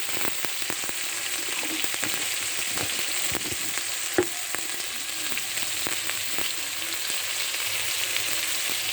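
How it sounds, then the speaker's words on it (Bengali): Crab with salt, turmeric, chili powder and coriander powder frying in a pan, a continuous close sizzle with scattered stirring scrapes and pops. "ভালোভাবে আমি কাঁকড়া কষিয়ে নেব।"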